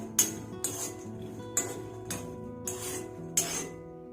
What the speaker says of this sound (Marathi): आता आपण शेंगदाणे भाजून घेऊ.